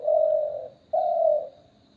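A caged dove, offered for sale, gives two close, soft, drawn-out coos separated by a short pause in a quiet setting.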